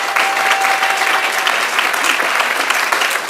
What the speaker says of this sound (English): let's give him a round of applause for all the work